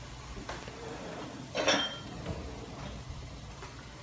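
Cooked egg dumplings dropped into a bowl, giving a few faint clinks and one brighter clatter of dish and utensil in a quiet kitchen.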